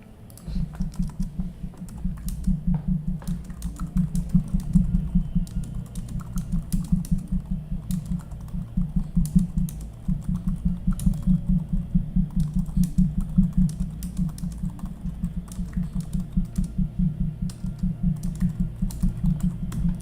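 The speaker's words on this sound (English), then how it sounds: "I know I typed that fast, huh?" Rapid, continuous clicking of a computer keyboard being typed on quickly, a dense steady patter of keystrokes close by that runs unbroken for the whole stretch.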